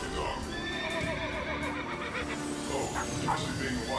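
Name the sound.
robot dog K-9 imitating a horse neighing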